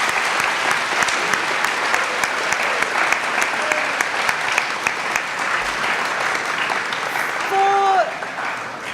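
A school assembly crowd gives sustained applause during a head student election, dense clapping filling the room continuously before a brief tonal squeak near the end as the noise tapers.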